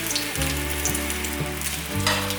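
Vegetable rolls fry in oil in a pan over medium-low heat, giving a steady close sizzle and crackle that runs throughout under soft background music, with no talking.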